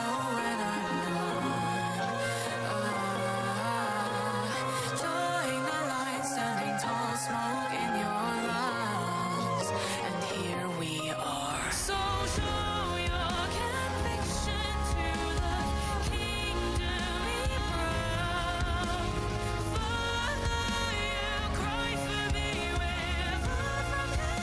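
Genshin Impact video game soundtrack song, dense and loud, with a fuller, heavier section kicking in partway through and playing continuously without speech.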